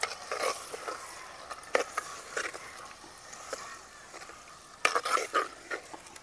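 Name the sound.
stirring chicken marinade with turmeric, salt and lemon juice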